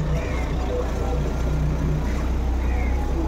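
A car on a busy weekend road near a beach gives a steady, fairly loud engine rumble that holds throughout without a clear rise or fall.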